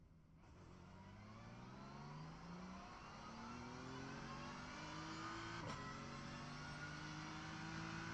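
A race car in the iRacing game at Silverstone revs up and shifts through its gears in a series of rising engine whines, faint but continuous, with no talking.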